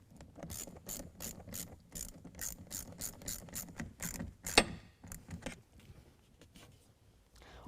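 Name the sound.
ratchet with 11 mm socket tightening air intake tube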